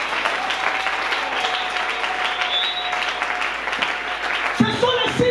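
A church congregation at a revival service applauds loudly and steadily, with cheering voices mixed into the clapping and the applause settling near the end.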